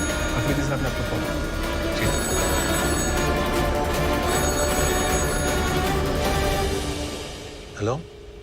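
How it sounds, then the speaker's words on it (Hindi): A telephone bell rings on and on, partly under talk and background noise, fading toward the end. "अफरीदी साहब ने आपको फोन"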